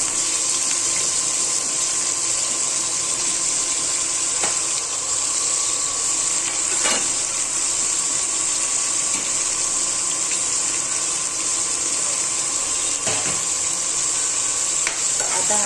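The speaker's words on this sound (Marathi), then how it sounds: "त्याच्यामध्ये आता कांदा टाकायचा आहे आणि कांदा चांगला फ्राय होऊन द्यायचा आहे" Chopped onion sizzles steadily in hot oil for a masala pav, a constant crackling hiss with a few stirring scrapes, close and loud with no talk over it.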